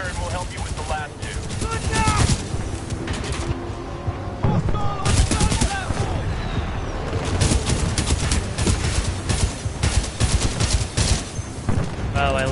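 Repeated bursts of gunfire from a weapon in Titanfall 2, loud and steady across the whole stretch, with a player's voice talking over the shooting.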